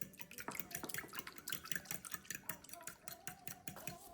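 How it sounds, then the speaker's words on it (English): Water being poured into a potato and egg batter, with soft irregular splashing, dripping and stirring taps throughout, fairly faint and close. "Add about 4 tablespoons or a quarter cup of water, which helps keep the mixture light."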